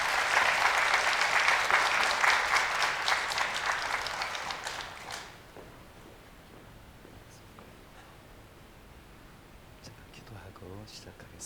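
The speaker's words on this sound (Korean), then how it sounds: "우리 박수로 환영하겠습니다." Church congregation clapping to welcome the pastor at a special service, a burst of applause that fades after about five seconds into quiet room tone with faint rustling and murmuring.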